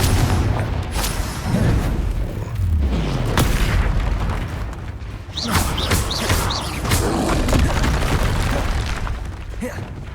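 A Confringo blasting spell in Hogwarts Legacy sets off a string of deep booming explosions with crackling bursts and whooshing magical effects, layered over busy combat noise throughout.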